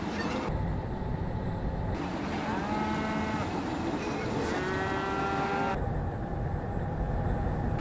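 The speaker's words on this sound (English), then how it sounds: "Can't believe I'm reversing and get mooed out." Cows moo several times in a trucking video game, drawn-out bellowing calls rising over a steady engine drone with no talking.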